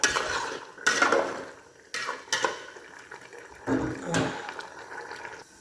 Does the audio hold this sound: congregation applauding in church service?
no